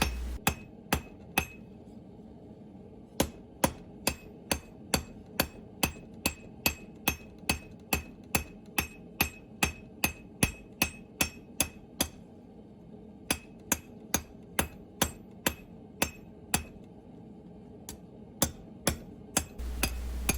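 A blacksmith's hammer strikes a workpiece on an anvil in a fast, steady rhythm of bright ringing blows, with a few short pauses between runs while forging a wall hook.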